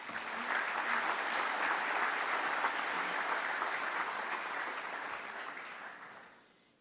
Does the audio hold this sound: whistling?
no